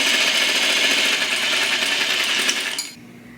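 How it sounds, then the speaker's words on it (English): A sewing machine runs steadily as it stitches down an extension seam on a dress made with self fabric, a close, even whir that holds for about three seconds before stopping abruptly, leaving a quiet room. "I'm going to go ahead and sew from this point down"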